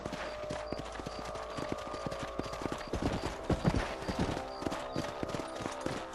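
Horse hooves clip-clop in a steady rhythm while riding across open ground in the video game Red Dead Redemption, close and clear over a low ambient bed, with a brief louder burst of hoofbeats midway.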